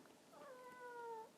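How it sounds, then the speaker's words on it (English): A house cat gives a single drawn-out meow, fairly faint and clear, rising slightly and holding for most of a second in a quiet room. "That's my cat."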